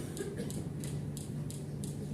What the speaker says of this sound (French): ce que vous entendez en ce moment, c'est l'enregistrement des tirs laser de Persévérance faits par ce micro.